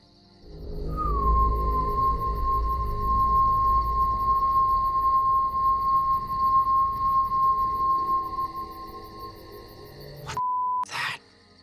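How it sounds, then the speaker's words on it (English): A single long, steady whistling tone holds for about nine seconds over a low rumbling background, then cuts off with a brief burst of noise. "And we hear this whistling."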